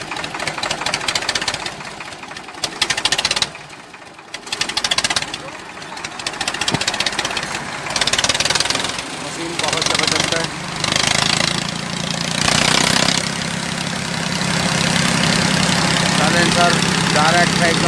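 A Preet tractor's Kirloskar diesel engine with a direct pipe exhaust idles close by with a steady, knocking chug, and someone talks over it throughout.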